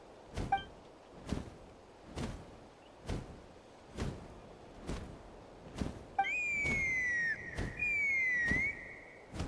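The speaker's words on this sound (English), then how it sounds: "That sounded like a whistle." In Genshin Impact, two long whistle tones sweep downward and then upward, one after another, over a steady series of soft, rhythmic thumps.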